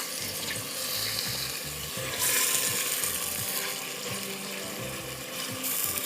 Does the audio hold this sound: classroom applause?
no